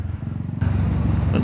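A Honda Forza 350 scooter with a loud aftermarket exhaust idles close by with a deep, steady rumble, then the engine note steps up sharply partway through and keeps droning loudly.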